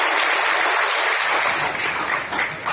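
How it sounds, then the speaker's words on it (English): Loud, dense applause from a large audience at a birth anniversary commemoration, sustained unbroken clapping filling the hall close up, swelling slightly with a few sharper claps near the end. "May I request each and every one of us to give a big round of applause to Dr."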